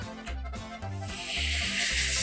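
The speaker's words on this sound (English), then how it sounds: "It's already sizzling." Sizzling of an 8-inch tortilla laid in a hot pan for a cheese quesadilla, a steady bright hiss that swells and grows louder over the clip, with low thumps of the pan or utensils beneath and no talking.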